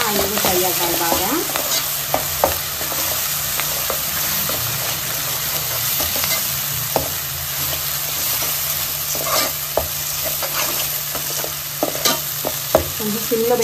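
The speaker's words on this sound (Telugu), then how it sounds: "ఈ మసాలా అంతా ఆయిల్లో ఫ్రై అవ్వాలి బాగా." Masala spices fry loudly in hot oil in a pan with coconut, a steady close sizzle and hiss with occasional spatters and stirring scrapes throughout.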